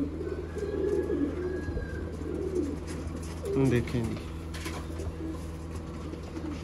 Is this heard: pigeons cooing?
yes